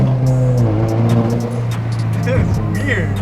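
A 2022 Subaru WRX with support mods pulls hard in second gear, engine note rising steadily from inside the cabin, with a voice talking over the drone.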